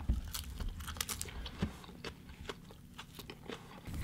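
Crunchy bites and chewing of a burger with crisp pickles, lettuce and a toasted bun, heard close up as a series of sharp crunches and wet chews with no talking.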